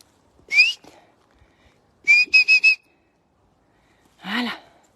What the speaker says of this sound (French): Bon, désolé pour le sifflement.